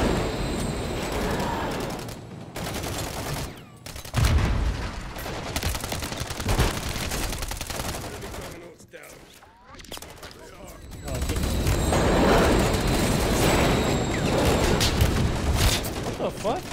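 Heavy gunfire in Call of Duty Modern Warfare 3, with loud bursts of automatic fire and booms coming and going during the match, and a player talking under the shooting.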